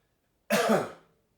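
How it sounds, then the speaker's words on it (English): One short, sharp cough up close, a quick burst that tails off in a fraction of a second against silence. "Just cough."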